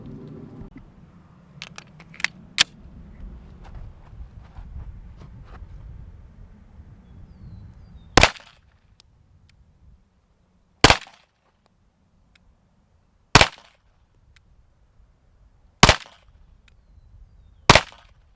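Five sharp, loud pistol shots from a Smith & Wesson M&P 2.0 ring out one at a time at an outdoor range, spaced a few seconds apart, with wind rumble and faint handling noise before them.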